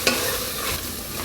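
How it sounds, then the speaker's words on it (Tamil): Mutton with garam masala sautéing in a pan: a brief, close burst of steady sizzling with one scrape of stirring at the start. "இப்போ இதை வந்து நல்லா கொஞ்சம் வதக்கிக்கலாம்"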